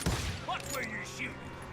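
Gunfire in a western video game: a heavy shot at the start followed by scattered softer reports, set against steady game ambience and music with voices mixed in.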